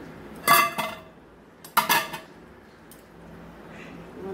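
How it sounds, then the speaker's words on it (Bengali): A hot metal steaming pot of paneer bhapa is lifted down with tongs in a kitchen, giving two bright metallic clanks and clinks about a second apart, close and fairly loud, followed by quiet. "সাঁড়াশি দিয়ে আমি নিচে নামালাম।"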